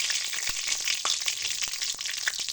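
Bay leaves and whole garam masala spices sizzle and fry in very hot oil in a kadai, a dense steady crackle with scattered sharp pops, close and loud with no voices.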